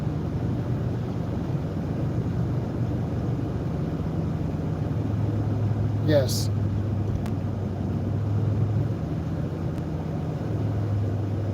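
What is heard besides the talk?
car driving in a traffic backup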